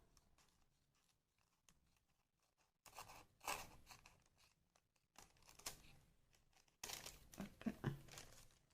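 Scissors cut paper for a scrapbook pouch in several crisp bursts of snipping and rustling, with quiet pauses between them. The sound is close and faint.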